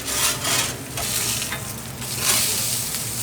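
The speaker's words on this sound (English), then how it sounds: "The sizzle of the grill can be heard throughout the shop as the patties cook" Steady, loud sizzling of burger patties on a hot grill in a Japanese hamburger shop, a continuous crackling hiss that fills the space without pause.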